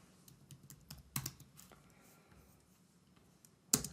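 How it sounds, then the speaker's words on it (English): Typing code on a computer keyboard, a run of light close key clicks with a few louder taps, one sharp final keystroke, in an otherwise quiet room. "and I type its caption after it."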